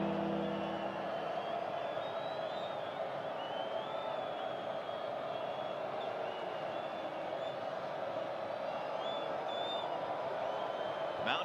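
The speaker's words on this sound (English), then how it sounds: "Mountaineer crowd trying to get into it here on 3rd down." The Appalachian State Mountaineers home football crowd keeps up a steady, distant roar on third down, with scattered whistles and whoops rising above the continuous stadium noise.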